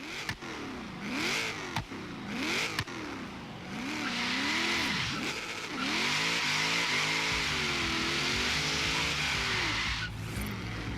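Street-tire car in Forza Horizon 3 revving hard, its engine note rising and falling through several gear changes, then holding a loud sustained roar with tire squeal, up close with no talking.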